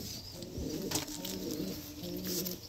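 Pigeons coo in steady low, throaty phrases at a bustling pigeon market in Konnagar, with a brief flutter of activity partway through and a constant bed of background crowd noise.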